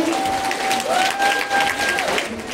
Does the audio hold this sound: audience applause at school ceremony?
yes